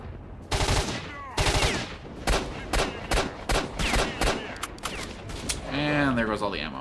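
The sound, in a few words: pistol gunfire in video game S.T.A.L.K.E.R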